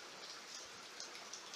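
Soft, steady patter of light May rain in Greece with faint scattered drips, quiet and brief.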